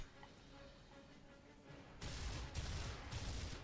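Blind-fire gunfire in the video game Gears of War: after quiet, a dense rapid burst of shots starts abruptly and continues loudly to the end, faint talk present.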